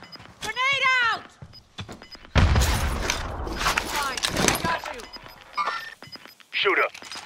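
Grenade explosion in Call of Duty: Modern Warfare, a loud broadband blast erupting midway and rumbling for a couple of seconds amid game gunfire, with people talking over it before and after.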